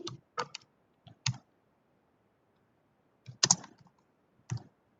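Keys clatter on a computer keyboard as C code is typed, with short bursts of quick clicks separated by quiet pauses, close and fairly soft, with no talking.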